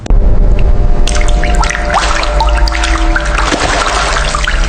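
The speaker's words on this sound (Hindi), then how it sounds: "दीवारों से खून टपकना शुरू हो जाता है।" Liquid dripping and trickling down walls in a horror story, loud and close with continuous wet splashes and spattering drips over a low drone.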